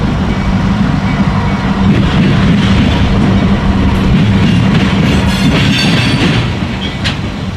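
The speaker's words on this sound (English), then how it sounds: "After a CSX local cleared the diamond on the Toledo sub, the 956 continued east." Norfolk Southern freight train rolling across a diamond crossing with the CSX Toledo subdivision at Lima, Ohio, a loud, close, continuous rumble of wheels and cars with rhythmic clatter at the crossing, easing slightly near the end.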